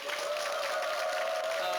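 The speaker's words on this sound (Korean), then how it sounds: "박수 한번 보내주세요" Studio audience on a KBS television game show gives a brief, continuous patter of applause, even in level throughout, with a sustained tone running steadily underneath.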